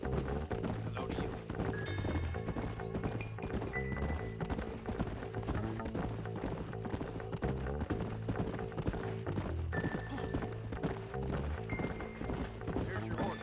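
Horse hooves clip-clop at a steady walking pace in the Red Dead Redemption video game, quiet under a continuous music score that also carries faint voices.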